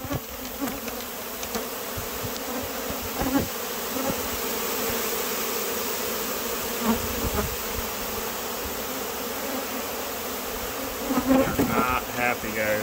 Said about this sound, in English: We're going to go ahead and chase the bees out.